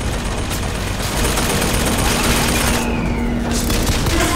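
Sustained, loud gunfire from a turret fight in Bioshock Infinite, a dense continuous barrage with booming low end and no clear gaps between shots.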